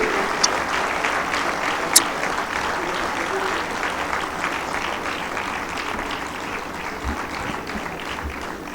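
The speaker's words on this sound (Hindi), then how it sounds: "और ध्वनि से क्लैपिंग के साथ" Audience applause welcoming a guest at the inauguration of Sukh Shakti Dham, steady sustained clapping from a large crowd throughout, fairly loud and continuous with no talk over it.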